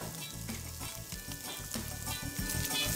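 Mushrooms and garlic sauté in butter and chicken oil with a lively, crackling sizzle, punctuated by stirring scrapes and rising slightly toward the end, with no voices.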